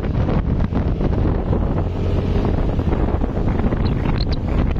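Strong wind buffets the microphone in a constant low roar, loud and unbroken throughout, with a rushing hiss on top.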